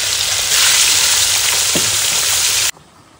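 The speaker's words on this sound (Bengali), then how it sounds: "এবারে সব মাছগুলো আস্তে আস্তে ভেজে নেবো।" Fish frying in oil during an outdoor picnic cook-up, a steady dense sizzle close by with a brief stir or clink midway, cutting off abruptly near the end.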